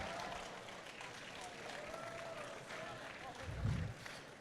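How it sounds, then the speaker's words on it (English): Audience clapping at a League of Legends gaming event, a steady broad patter of applause running throughout with a louder burst near the end, mixed with crowd murmur. "Let's give them a clap."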